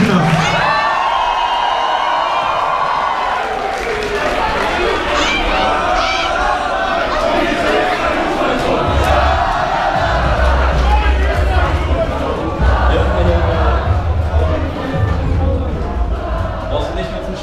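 A concert crowd at a live rap show in an Essen club cheers, whoops and claps in a dense, loud wash, with a voice over the sound system and a booming low rumble joining partway through.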